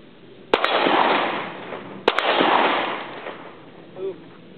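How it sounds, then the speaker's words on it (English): Two sharp pistol shots from a .38 Super 1911 fired left-handed outdoors, each a loud crack followed by a long rolling echo, roughly a second and a half apart. "So I'm going to shoot this one left-handed."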